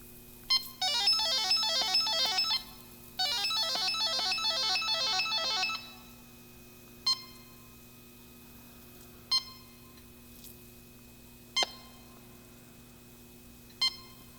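A handheld refrigerant leak detector sounds rapid electronic beep bursts in two long runs, then settles into single short chirps spaced every couple of seconds, close and fairly loud over a faint steady hum.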